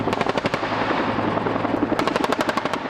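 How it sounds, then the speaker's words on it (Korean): Two Cobra attack helicopters fire 20mm machine guns in loud, rapid bursts, with a short volley, a pause filled by rotor roar, then a longer burst of evenly spaced shots. "좌우 양쪽에서 2대의 코브라 헬기가 20mm 기관총을 발사한다."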